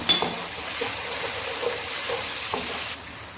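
Garlic-ginger paste frying in a pan while making chicken vegetable rice, a steady close sizzle with a few soft stirring taps and a sharp clink at the start, with no voices.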